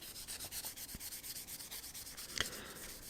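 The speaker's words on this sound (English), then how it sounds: "So I'm just going to use some oil and continue the sanding process with the 400." A wooden kitchen knife handle is wet sanded with oil on 400 grit sandpaper, giving quiet, steady rhythmic rubbing strokes close by with one brief louder scrape near the end.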